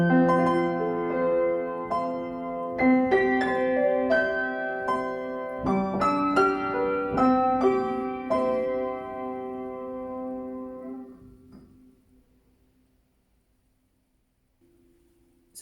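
A piano plays a theme an octave higher, bright chords and melody notes ringing close and clear, then fading into a long decay and near silence at the end.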